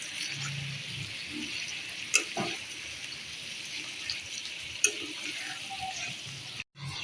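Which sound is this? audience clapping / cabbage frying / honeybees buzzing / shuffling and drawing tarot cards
cabbage frying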